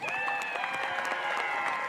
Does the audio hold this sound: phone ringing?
no